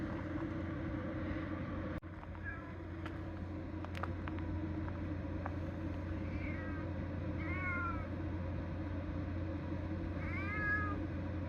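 A cat meows several times, short rising mews spaced apart over a steady low engine-like hum, with a few clicks early on.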